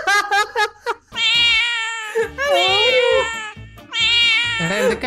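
Cartoonish cat meows from the video game Silly Royale, several long drawn-out wailing mews in a row, loud and close, with a person talking excitedly in between.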